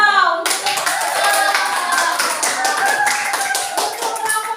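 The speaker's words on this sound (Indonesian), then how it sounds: "Tepuk tangan untuk 3 kelompok" Classroom applause for three student groups, a sustained round of clapping from many hands in a room, with faint voices underneath.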